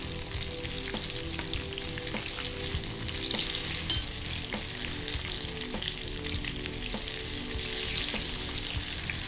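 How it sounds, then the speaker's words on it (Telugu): Banana paniharam deep frying in hot oil, a steady dense sizzle with scattered small pops running throughout, close and continuous with no voices. "సో బ్రౌన్ కలర్ వచ్చే వరకు వీటిని మనం డీప్ ఫ్రై చేసుకోవాలి"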